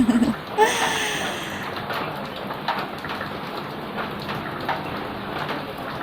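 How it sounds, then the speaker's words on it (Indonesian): Light but steady rain of the rainy season falls continuously, a soft broadband patter heard close by without a break, with no talk over it. "ini musim hujan, jadinya hujannya tuh kecil tapi tetap gitu banyak gitu ya"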